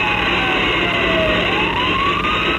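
A fire truck siren wails loudly and steadily, its tone sliding down and back up as the engine rushes toward a burning Maserati sedan.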